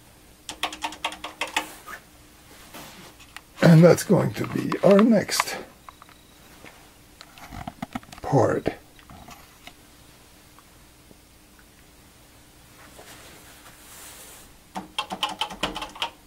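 Bursts of rapid typing on a loose Commodore PET 4032 keyboard under repair, clicky keypresses in short runs, with someone talking in between.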